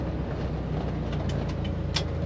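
A 1964 Corvair driving on a road, heard from inside as a steady low engine and road rumble with a few faint clicks, moderately loud and unbroken over a couple of seconds.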